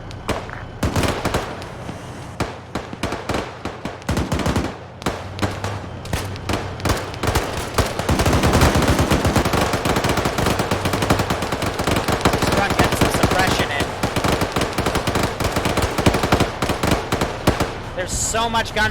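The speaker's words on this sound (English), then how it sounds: "There's so much gunfire going on, you can't even distinctly hear the 50 cal firing." Heavy, sustained automatic gunfire in a military video game, including a .50 caliber gun, with overlapping bursts and shots, loud and dense throughout, building into a continuous barrage.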